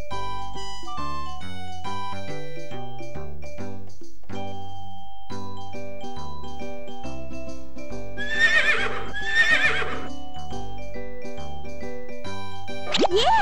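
A horse whinnies twice in quick succession, then once more at the end, over bright plinking background music in the Dora's repair adventure game on the VTech V.Smile.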